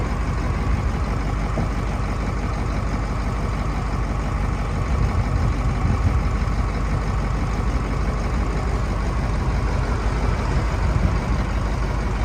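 A 1975 Ford 8000 truck's engine running at a steady idle, a dense low rumble with even mechanical chatter, close and constant for the whole stretch with no talk over it.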